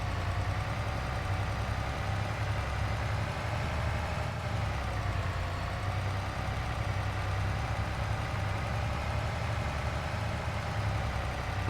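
A small truck in Farming Simulator 22 hauling a full water tanker trailer, its engine droning steadily at low revs with a constant hum and no voices over it.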